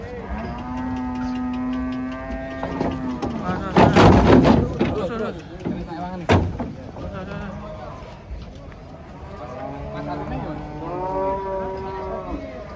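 Large humped cattle being unloaded from a truck low and moo several times, with hoof clatter and thumps in the middle; people talk throughout.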